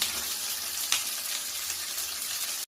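Potatoes for chilli potato sizzle lightly in a pan, a steady close hiss of frying with faint stirring clicks and one brief sharper scrape partway through, no voices.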